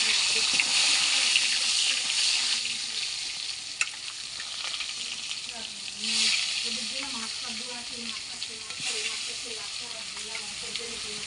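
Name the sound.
rupchanda fish frying in hot mustard oil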